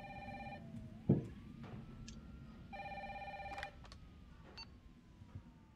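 In Resident Evil 3 Remake, a phone rings in two clear electronic bursts separated by a pause, with a sharp thump between them, over a low background hum.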